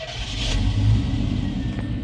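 A 1991 Chevrolet Suburban V2500 4x4 with a rough idle and stalling fault restarts and revs, a close, steady low engine rumble that swells briefly and holds.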